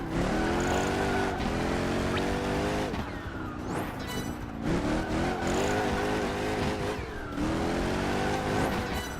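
Race car engine in Project Gotham Racing 4 screams through repeated rising gear changes and revs, loud and close throughout, with brief tire squeals and no talking.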